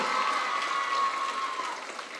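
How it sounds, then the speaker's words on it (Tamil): At a DMK political stage event, a crowd claps in a thick, continuous wash of applause that fades slightly toward the end, with a faint thin tone running through it. "இந்த கைத்தட்டல் போதாது, இந்த கைத்தட்டல் போதாது"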